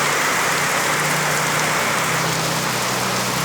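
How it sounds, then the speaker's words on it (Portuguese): Heavy rain pouring down in Raul Soares, Minas Gerais, a loud, dense, steady hiss of downpour drumming on surfaces, close and continuous without pause. "Agora a chuva chegou."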